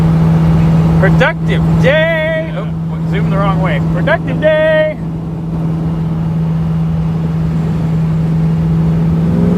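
A 1974 AMC Hornet with Edelbrock EFI cruises along, its engine a steady, even drone heard from inside the car while people talk over it.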